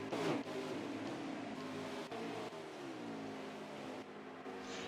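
Engine drone from race cars in the NASCAR Heat 5 video game during a Cup Series race at Michigan, a steady loud roar with pitch shifts as cars pass and rev, continuous throughout with no talk.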